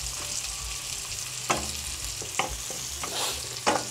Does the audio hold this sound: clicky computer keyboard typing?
no